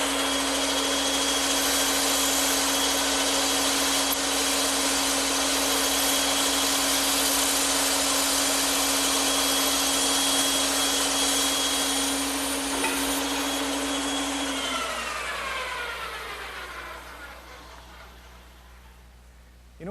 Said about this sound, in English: take it over to the bandsaw, and cut out the curved portions using a 1/4 inch blade set up in the saw